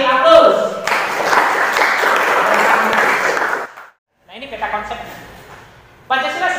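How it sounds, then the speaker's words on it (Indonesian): A classroom audience at a junior high school breaks into a few seconds of steady clapping, loud and close, which fades out before a teacher resumes talking. "Kasih aplaus."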